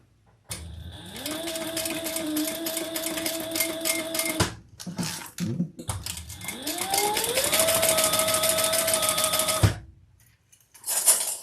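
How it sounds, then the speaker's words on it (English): A sewing machine runs in two long bursts of steady, rapid stitching while top-stitching a mini tote bag, with a short pause and some handling noises between them, then quiet at the end. "then we're going to top stitch."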